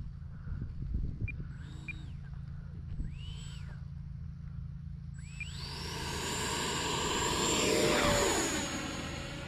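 An E-flite Viper RC jet plane flies past outdoors, its engine whine faint at first and then building into a loud rushing whoosh as it passes near. Birdsong is heard early on.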